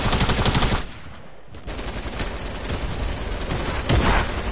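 Rapid automatic gunfire in the Fortnite video game, loud and continuous bursts with a brief lull near the start before the rattling volleys resume.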